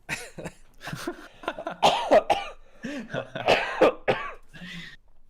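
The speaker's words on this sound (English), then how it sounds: "cough attack" A loud, close coughing fit: a rapid series of harsh, hacking coughs and throat-clearing bursts tumbling one after another for several seconds with no pause.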